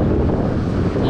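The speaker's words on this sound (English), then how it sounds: "It's raining, really windy." Strong wind on a rainy beach at Skinningrove while lugworms are dug, heard as a steady, loud roar buffeting the microphone with no break.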